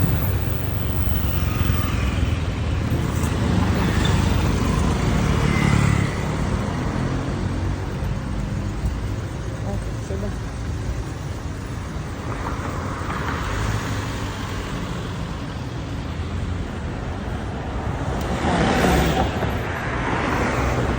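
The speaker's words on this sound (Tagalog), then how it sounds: "Traffic." Road traffic passes on a busy street in Thailand, with a continuous roar of cars and motorcycles swelling as vehicles go by, close and steady, without talking.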